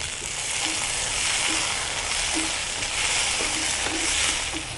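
Tomatoes, 200 g, go into a hot pan for a mutton and green field bean curry, with a steady, loud oil sizzle and faint stirring scrapes running throughout.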